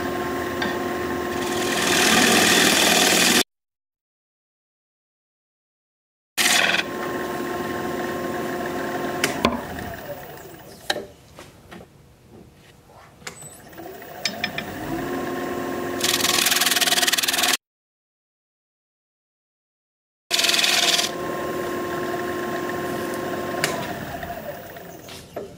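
A wood lathe turning a fruit bowl at about 1200 RPM, a steady whirring hum with tool scraping and rubbing against the spinning wood, cut by two silent gaps and a quieter stretch in the middle.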